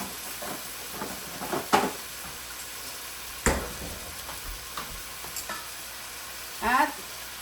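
Bicol express stirred in a pan: a few scraping stirs with soft sizzling underneath, louder strokes standing out at intervals.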